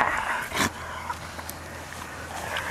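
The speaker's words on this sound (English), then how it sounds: "You are a silly dog." A dog in a home setting gives a short whimpering yip near the start, then soft panting and snuffling sounds follow, close and fairly quiet against light background noise.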